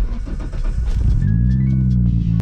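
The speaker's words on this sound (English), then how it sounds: "let's start the car real quick." A tuned Nissan R32 GTR cranks with rapid starter chatter, then fires and settles into a loud, steady idle close by.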